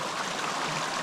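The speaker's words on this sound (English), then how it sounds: "The sound of water. Good, clean water." Clean stream water flowing at a trout fishing spot with brook and cutthroat trout, a close, steady rushing babble filling the short moment without any voices.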